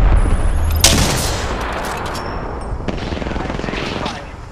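Gunfire in the video game Apex Legends: a burst of rapid automatic shots opens the clip, followed by scattered sharper cracks and further fire under a dense, loud battle soundscape, close and aggressive.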